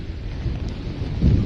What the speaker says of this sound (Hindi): भारी बारिश भी लगातार हो रही है।